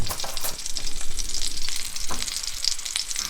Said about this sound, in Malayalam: മുറിച്ച് വെച്ച തക്കാളി നമ്മൾ ഇതിലേക്ക് ഇടാൻ പോവുകയാണ്.